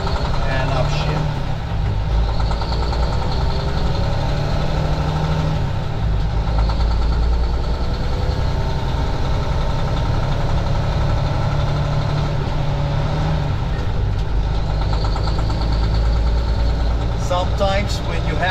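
A truck with an Eaton transmission drones steadily at mid pitch while the engine note shifts through an upshift, someone talking over it most of the time.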